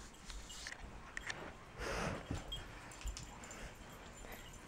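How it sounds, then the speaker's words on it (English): Little puppies whimpering and sniffing close by, soft and faint, in short intermittent bursts with quiet gaps between them. "Look at the little puppies"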